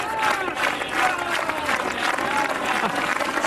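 Spectators at the 1989 World's Strongest Man contest break into sustained applause, broad dense clapping rolling through the crowd with a commentator's voice partly underneath.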